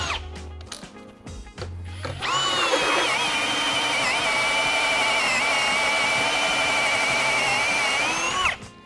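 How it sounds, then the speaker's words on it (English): A power drill with a large bit whines steadily at high pitch for several seconds after a few short knocks, then stops abruptly; close and loud, no speech. "use a bigger drill bit and open it up"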